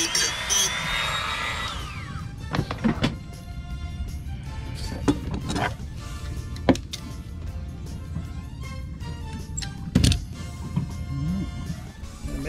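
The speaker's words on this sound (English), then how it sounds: "So I'm going to cut them off with the Dremel" A Dremel rotary tool cuts screws shorter with a high, whining grind at the start, followed by sharp metallic taps and clatter as the work is handled nearby.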